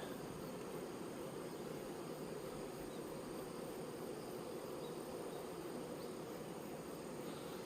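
Faint, continuous buzzing of hornets near a beekeeper's hives hovers in the background, a steady drone with no talking.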